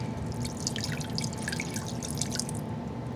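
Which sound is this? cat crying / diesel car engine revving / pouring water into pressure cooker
pouring water into pressure cooker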